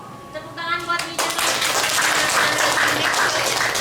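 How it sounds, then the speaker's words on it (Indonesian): A speaker talks briefly at a hotel beauty brand event, then the audience bursts into loud, steady applause that fills the room and carries on without letting up until the end. "Tepuk tangan buat Mida."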